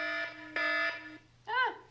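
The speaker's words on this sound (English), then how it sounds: "It's another alarm" A programmed spy robot toy's motion-sensor alarm plays electronic tones: two sustained buzzing beeps followed by a short warbling, siren-like chirp, clear and close against a quiet background.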